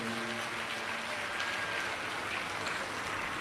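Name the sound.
audience applause welcoming host family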